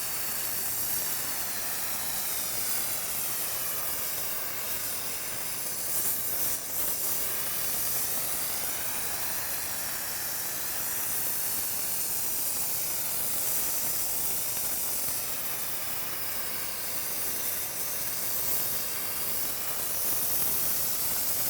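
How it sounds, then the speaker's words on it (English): An acetylene torch hisses steadily and loudly as it heats the bottom flange of an electrical bushing, a continuous broadband roar with slight wavering and no pauses. "Using the acetylene torch, heat the entire surface of the bottom flange"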